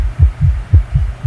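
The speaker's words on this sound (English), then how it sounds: "Why's your heart beating so fast?" A rapid, low thumping heartbeat pulses steadily, about five beats in just over a second, loud and close with a faint hum underneath.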